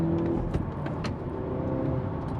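A 2024 Hyundai Elantra N sedan with a six-speed manual accelerates at full throttle, its engine note climbing and then dropping briefly through a gear shift, heard from inside the car.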